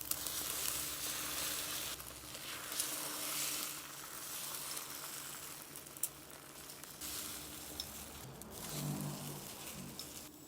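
Eggs fry in hot olive oil in a pan, giving a steady, fairly quiet sizzle with intermittent crackles and soft stirring or folding sounds throughout.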